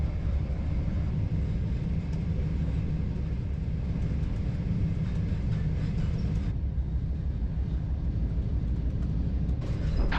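An Inter7City HST train running from Inverness to Perth past floodwater, a steady loud interior rumble of the ride with a constant low engine drone and faint clicks, no talk.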